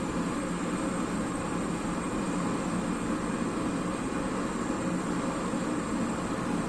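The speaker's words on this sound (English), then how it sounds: "So you ever wonder what's that sound when you go to a Chinese restaurant? It is the flame." A steady, broadband roar of a Chinese restaurant-style gas burner flame under a pot of water, constant and unbroken, with no voices.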